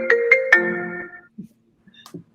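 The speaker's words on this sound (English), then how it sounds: "So that's my phone." A mobile phone ringtone rings during a board interview, a few bright repeating tones up close followed by a short lingering tail, then brief faint noises before it cuts off.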